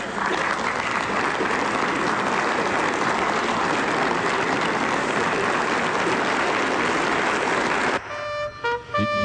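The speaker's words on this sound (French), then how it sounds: "Vous pouvez applaudir cet officier." Loud, dense applause from a large audience at an official ceremony honouring an officer, a sustained roar of clapping for about eight seconds that then cuts off abruptly into brief tonal sounds.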